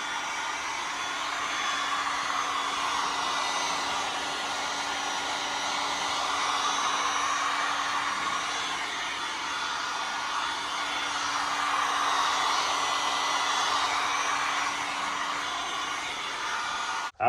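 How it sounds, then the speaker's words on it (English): Heat gun blowing steadily while warming 3M adhesive tape on a truck fender flare, a continuous loud airy whir with a faint tonal hum, running alone without pause for the whole stretch. "After you used your heat gun"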